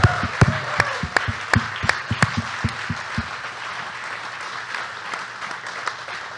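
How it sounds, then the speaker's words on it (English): Applause at a Kansas City Chiefs happy hour event starts with several loud, distinct nearby claps over a dense crowd clapping, then softens into a quieter, steady patter that tapers off. "Give him a big round of applause."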